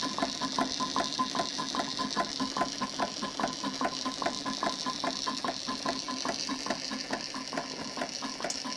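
A Bing 10/115 double-acting steam engine runs steadily, its rapid, evenly spaced beats repeating without pause under a constant mechanical hiss, close by and fairly loud.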